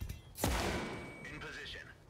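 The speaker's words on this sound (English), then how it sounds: "Throwing grenade." A thrown grenade goes off in a tactical planning video game: one sharp, loud burst followed by a rumbling decay, with faint chirping tones trailing after it.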